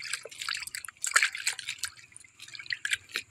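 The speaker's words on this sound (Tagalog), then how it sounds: "Ito idol, tubig lang ito ng ulan." Rainwater drips and trickles in quick irregular patters, close and bright, with short bursts of splashing drops and brief quiet gaps.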